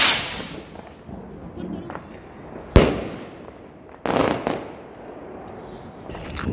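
Diwali firework rockets whoosh up and crack in sharp bursts, several loud pops spaced a second or so apart outdoors at night, with faint voices in the background.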